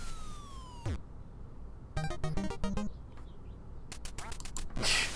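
Electronic duck quacks from the NES game Duck Hunt come in a quick run of short, buzzy calls, followed by gunshot-like blips and a burst of noise, with faint talk underneath.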